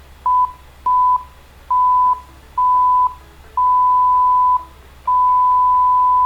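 A steady tone beeps six times in an even rhythm, the beeps growing longer toward the end, over a low background hum.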